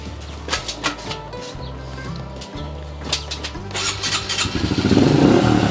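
A Honda CRF 110 dirt bike engine cranks a few times, then catches and settles into a steady running drone that grows louder toward the end, heard close up.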